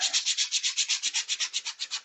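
Rhythmic rasping strokes, about eight per second, as a 3D-printed sanding bow is rubbed back and forth steadily over a surface, close up and fairly quiet.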